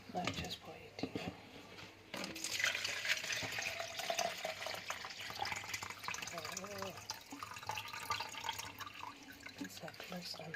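Cloves water pours and splashes into a container for several seconds, a gurgling, watery rush with a person talking quietly nearby.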